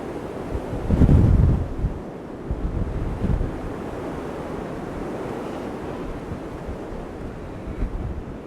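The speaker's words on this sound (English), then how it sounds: "Still blowing a gale as well, probably noticed that." A strong gale roars across Dinorwig Quarry, buffeting the microphone with a loud, continuous low rumble that swells into a heavy gust early on and keeps blustering steadily throughout.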